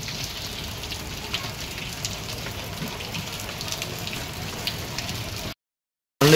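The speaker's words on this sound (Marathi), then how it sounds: "आता पाऊस चालू झाला आहे मस्त छान" Heavy monsoon rain pours at night during a Janmashtami gathering, a steady dense hiss with scattered drop patters that holds evenly before cutting to a brief silence near the end.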